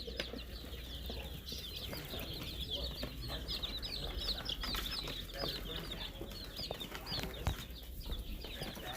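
Small baby chicks cheep and cluck in a dense, steady chorus of high, repeated peeps, close by, with faint voices and shuffling underneath.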